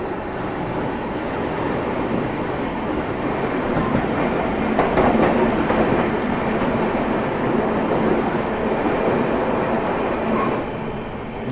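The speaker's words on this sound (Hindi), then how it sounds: "ये बनारस वाली वंदे भारत थी" The Banaras Vande Bharat express thunders past on the tracks in India, a loud continuous roar of wheels and rushing air with faint rhythmic clatter, sustained and close for several seconds.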